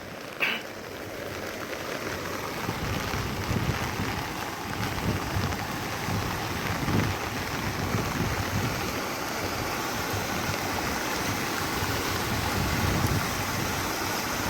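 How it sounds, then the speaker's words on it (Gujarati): Heavy rain falls steadily over a village through the night, a dense, even hiss of drops on surfaces and roads, loud and continuous throughout with no voices. "જો કેવો વરસાદ આવ્યો આખી રાત ધબધબાવ્યા છે"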